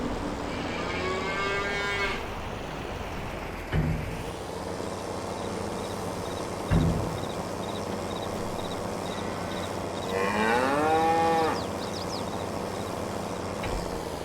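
Cattle mooing in the Farming Simulator 22 game, two long drawn-out moos around the start and middle, fairly loud over a steady low ambient hum with a few soft thuds.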